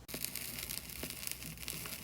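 Vinyl crackle layered under an indie dance track, a faint steady bed of dense hiss and tiny pops running continuously at very low level.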